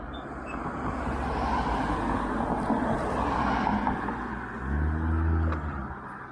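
A car passes on a road near the Stanley Park seawall, rising from a broad road rush to a close, louder low rumble, then receding. No talk.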